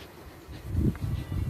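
Honeybees buzz at a hive entrance as they return with pollen: a soft, fluctuating drone that swells and fades as insects pass close, with no speech.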